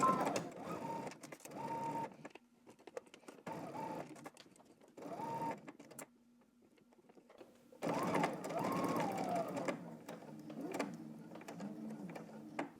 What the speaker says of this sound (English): now we're gonna head to the sewing machine and we're gonna stitch across and then around the curve